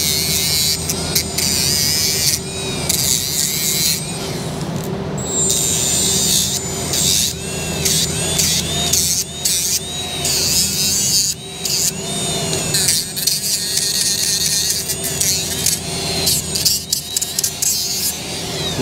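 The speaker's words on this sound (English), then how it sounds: "Now, we're gonna grab the grinder." An angle grinder scours rust off the brake hub of a Ford Super Duty truck, grinding loud and close for the whole stretch with a harsh, scraping buzz that keeps changing as it is pressed and moved.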